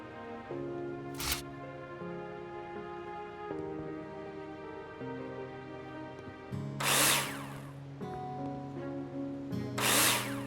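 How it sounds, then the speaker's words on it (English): In the video game Builder Simulator, a power drill drives screws into plasterboard, whining steadily at low level with three sharp bursts as each screw seats. "Take your drill out and screw them in."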